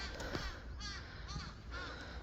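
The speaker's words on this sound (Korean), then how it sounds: "까마귀" A crow caws about three times outdoors on a springtime coastal trip, over steady background noise.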